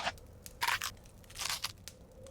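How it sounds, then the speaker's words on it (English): Loud crunching and chewing bursts, several crisp bites and munches in quick irregular succession, close up with no talk, as animals nibble and chomp snacks in a bear's cave in a children's picture-book reading. "they nibble and they munch with a chew, chomp, crunch."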